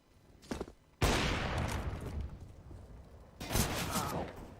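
Gunfire in a Counter-Strike: Global Offensive match, a sharp loud shot followed by a second burst a few seconds later, with fainter earlier pops and a low rumble of game ambience.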